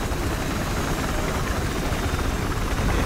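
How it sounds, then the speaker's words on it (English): A helicopter's rotor roar in the video game Battlefield Hardline holds loud and steady throughout, a dense continuous drone with no break. "Sounds like there's a chopper for me to take care of."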